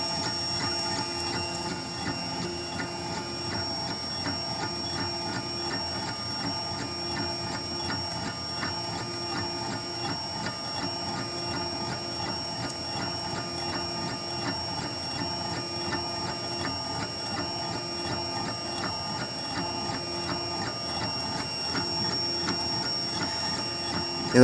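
A Printrbot Simple Metal 3D printer printing close onto tape: a quiet, steady mechanical buzz of stepper motors with rapid rhythmic ticking, continuing evenly for the whole stretch with no talking.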